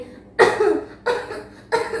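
A person imitates coughing: three harsh, deliberate coughs spaced about half a second apart, close and fairly loud, with no talking.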